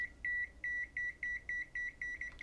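An AN870 multimeter in non-contact field-detection mode beeps near a 220 V wire, giving a clean, steady run of about a dozen short, evenly spaced electronic beeps over a quiet background.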